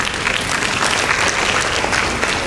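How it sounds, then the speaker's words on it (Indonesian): Applause from an indoor audience at a public discussion forum, a steady dense wash of many hands clapping at once, loud and continuous for the whole stretch with no pauses. "Jadi tepuk tangan buat Pak Fauzila."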